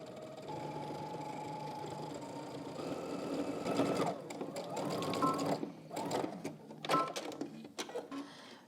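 A sewing machine edge-stitches the folded edge of a pants piece, running in a steady close whir that picks up, then breaks into uneven bursts with brief pauses and clicks toward the end.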